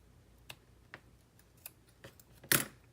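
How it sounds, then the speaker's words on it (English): Scissors snipping yarn while making mini pom poms, a few sharp isolated clicks spaced through the moment, ending in one louder close snip. "I'm just gonna go ahead and cut those so you don't get confused."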